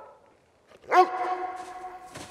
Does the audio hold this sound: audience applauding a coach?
no